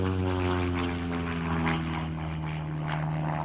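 An airliner-liveried propeller aeroplane flies at an airshow, its engine drone steady and fairly loud with a constant tonal hum.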